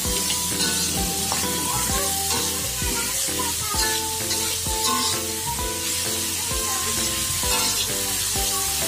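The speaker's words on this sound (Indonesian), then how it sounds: "langsung masukin jamurnya ya Bun ya. Dioseng-oseng lagi sampai agak layu." Mushrooms stir-fry in seasoning in a pan for an oyster-sauce dish, a continuous loud sizzle mixed with rhythmic background music.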